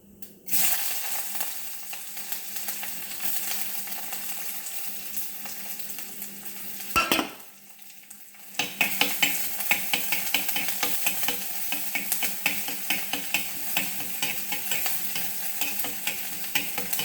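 Ginger, garlic and shallots fry in a pan with a loud, steady sizzle, briefly dropping away before a spatula starts stirring in rapid, rhythmic scrapes and clatters over the crackling oil.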